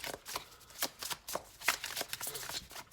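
A deck of Ciro Marchetti tarot cards shuffled by hand, quick crisp riffling bursts with small pauses between, close and fairly quiet, with no talk.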